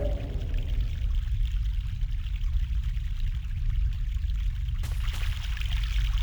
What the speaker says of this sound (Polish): Górska źródlana woda